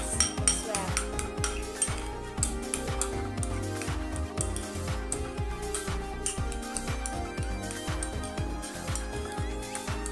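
Sardine fish ball mixture being mixed in a bowl, with steady scraping, clinking and stirring noises from utensil on the bowl running continuously, close and fairly loud, with no talking.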